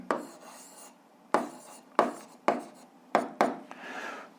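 Several separate pen or chalk strokes scratch out a physics formula, each a short scraping burst followed by a pause, close and moderately quiet.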